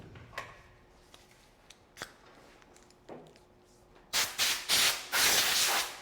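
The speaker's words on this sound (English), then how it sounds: "I want to spray the stain blocker over top of it" A spray gun lays stain blocker primer over a scuffed finish in loud, sustained hissing bursts that start abruptly after a few faint clicks and taps, the last burst running longest.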